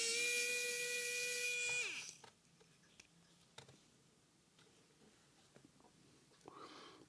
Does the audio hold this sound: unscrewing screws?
yes